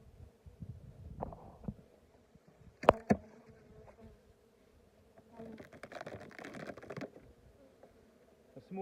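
Honeybees in a small winter colony buzzing during a hive inspection, a faint low hum with scattered clicks and knocks of handling and a brief louder burst of activity midway.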